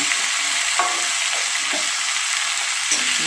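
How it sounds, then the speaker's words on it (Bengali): Steady, close frying sizzle of steamed fenugreek greens in oil, continuous and even, with a few soft stirring scrapes; no voices. "তেলের উপরে নাড়াচাড়া করে ভাজা ভাজা করে নিচ্ছি"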